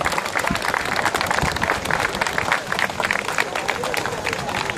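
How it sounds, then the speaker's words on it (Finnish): A crowd at the Anjanpelto market in Asikkala bursts into loud, steady applause after a firewood-splitting contest finish, the clapping dense and continuous with cheering voices mixed in. "Ja nyt sitten yleisöltä raikkuvat aplodit."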